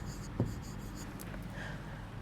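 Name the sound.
writing on a board during class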